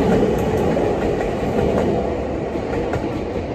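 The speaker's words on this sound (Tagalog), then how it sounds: "Ayan ang train." A train in Japan passing close by, with a steady loud rumble and faint clickety-clack of wheels on rails throughout, heard alone.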